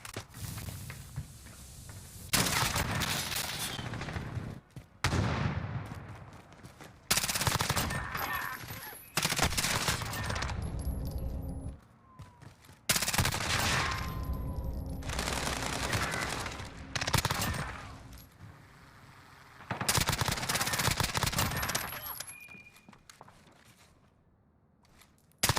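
M4 SMG fire in a video game comes as loud rapid automatic bursts, about six sustained volleys separated by brief pauses, with faint footsteps between them.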